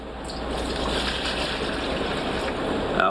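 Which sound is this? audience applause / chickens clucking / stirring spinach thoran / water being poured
water being poured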